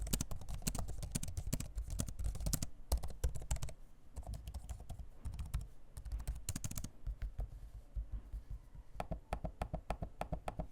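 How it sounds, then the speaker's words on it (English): Steady close-up typing on an HP Omen Max 16 laptop keyboard, rapid soft key clatter with brief pauses and occasional sharper trackpad clicks. "Here's a sample of me using the keyboard and trackpad so you can hear them."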